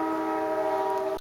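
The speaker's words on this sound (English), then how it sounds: "That sounds like the 6 o'clock train leaving Seward." Passenger train leaving Seward, Alaska, its horn a steady, sustained multi-tone chord heard at a distance, loud and unbroken, ending with a faint knock, no voices.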